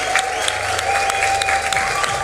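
Excited crowd at a Mortal Kombat X fighting game tournament grand final, cheering and clapping in a steady dense roar of applause with scattered shouts, loud and close throughout.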